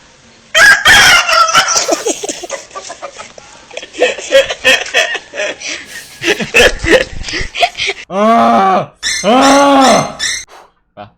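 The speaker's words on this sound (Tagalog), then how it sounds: "May manok." Loud chickens cluck and a rooster crows close by in several drawn-out calls, with a few sharp bursts of other sounds between them.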